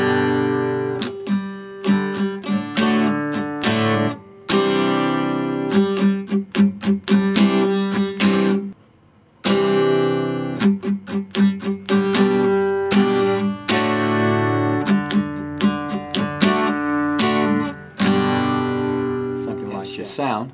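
Acoustic guitar strummed up and down through the chord progression of a song, rhythmic and fairly loud, with a brief pause midway before the strumming resumes.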